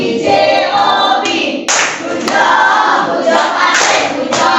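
A school class group performs a rhythmic clapping chant together, loud shouted voices in unison mixed with hand claps, shifting in pitch across a few short phrases.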